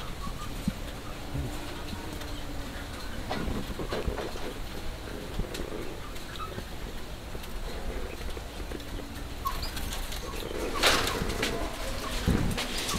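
Soft, rhythmic cooing of a zebra dove in a noisy outdoor setting, with scattered clicks and bumps around it; the calls are faint and somewhat buried in background noise.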